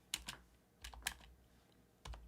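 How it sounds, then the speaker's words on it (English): Computer keyboard keys pressed in short clusters, a few quick clicks at a time with brief pauses between, close and fairly quiet, no talking. "I am using shortcuts on the keyboard"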